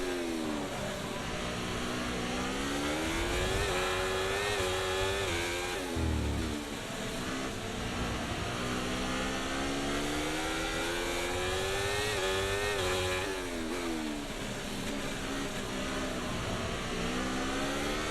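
Race car engine from the F1 24 video game during a sprint race at the United States Grand Prix, a loud continuous whine rising and falling with gear changes and acceleration, steady throughout with no talk.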